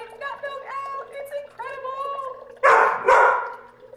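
A puppy named Aspen barks twice, loud and close, in a kitchen while a smoothie with homemade oat milk is being made. Softer whines and yips come before the barks.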